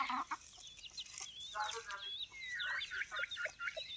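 Hens cluck softly while chicks cheep in quick, high peeps, a busy mix of close and scattered calls against quiet outdoor background.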